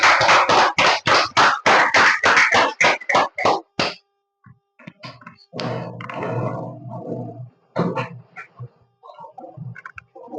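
At a lucky-draw event, an audience gives a winner of a 4-by-6 bed loud, evenly spaced claps in unison, about a dozen in a row, then scattered, looser clapping and crowd noise follow.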